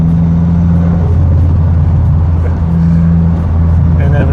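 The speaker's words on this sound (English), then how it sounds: "The Bertone was a really cool car as I grew up, especially the turbo, like this one, because of the sounds" A Bertone turbo car engine idles and rumbles loudly and steadily at close range, with a low droning hum throughout.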